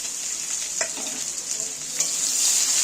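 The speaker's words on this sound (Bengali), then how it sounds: "এবার আমি পেঁয়াজগুলোকে ভেজে নেব" Finely chopped onions frying in hot oil, a bright continuous hiss up close, broken by a couple of brief spatula scrapes, with no voices.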